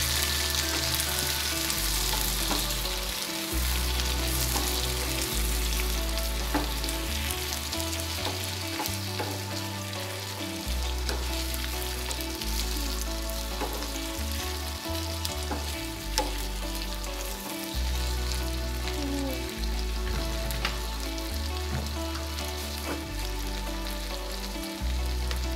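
Tomato pieces sizzling and spitting in a hot pan for chutney, a dense continuous crackle with stirring scrapes and low clunks of the spoon recurring throughout, close and steady with no talk.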